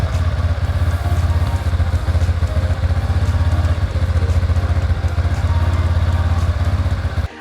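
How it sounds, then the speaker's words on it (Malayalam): TVS Ntorq 125 scooter engine running after a fresh oil change, a steady close, loud idle with a continuous low rumble and light mechanical clatter throughout, no talking. "ഓയിൽ ചേഞ്ച് ചെയ്യുന്നതിന് മുമ്പുള്ള എഞ്ചിൻ സൗണ്ടും ഓയിൽ ചേഞ്ച് ചെയ്തതിന് ശേഷമുള്ള എഞ്ചിൻ സൗണ്ടും തമ്മിൽ നല്ല വ്യത്യാസമുള്ളതായിട്ടാണ് എനിക്ക് തോന്നുന്നത്"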